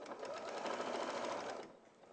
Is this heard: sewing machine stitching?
yes